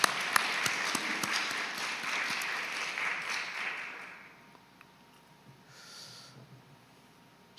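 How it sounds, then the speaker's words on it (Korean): A church congregation at a Sunday worship service claps for the broadcast team, a fairly soft burst of applause that fades out after about four seconds into quiet room tone with faint shuffling. "우리 방송팀들 우리 힘내라고 박수 한번 쳐줘요"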